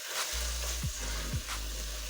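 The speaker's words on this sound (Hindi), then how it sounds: "इसी तरह थोड़ा थोड़ा दूध शामिल करते जाएंगे और भूनते जाएंगे।" Spinach and beef curry sizzles and fries steadily in a pot as milk is added bit by bit, with a constant close crackle and a couple of soft stirring scrapes.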